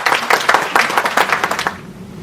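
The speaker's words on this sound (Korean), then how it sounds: "박수 한번 주세요." Church congregation applauding at an elder ordination and retirement ceremony, a steady patter of many hands clapping for about two seconds before fading out.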